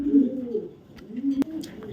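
A large, high-quality male racing pigeon coos nearby in two rolling, throaty bursts separated by a short pause, with a sharp click between them.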